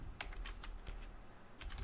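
Typing a SQL query on a computer keyboard, soft quick clicking keystrokes in short bursts, close and faint with no talk.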